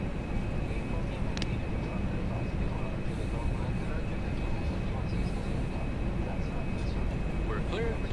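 FSLabs A320 engines roaring steadily during takeoff in the Prepar3D flight simulator from LIRF, a dense continuous rumble with a thin whine on top and faint talk beneath.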